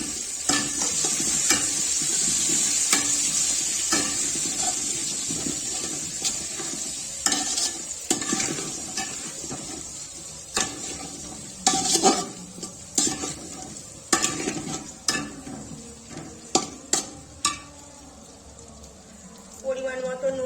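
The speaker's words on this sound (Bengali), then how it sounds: "এবার আমি এর মধ্যে এই আলুগুলো ছেড়ে দেব।" Potatoes go into hot oil for mutton biryani and sizzle steadily while a spoon scrapes and stirs them around the pan with irregular clinks. A person talks over the cooking.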